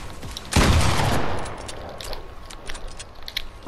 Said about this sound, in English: A hand cannon.